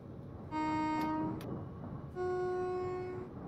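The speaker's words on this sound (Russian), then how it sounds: "Вот такие вот громкости гудков." Two sustained horn blasts from a Class 378 electric train in Train Simulator, loud and close, the first about half a second long into a fading tail, the second longer, with faint clicks between them and no talk.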